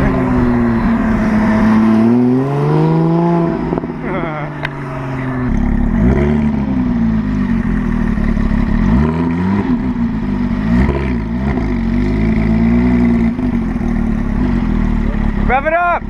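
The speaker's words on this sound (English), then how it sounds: "Rev it up!" A car engine revs hard at a car meet, rising and falling in repeated loud throttle blips and sustained revving close by, with people talking over it.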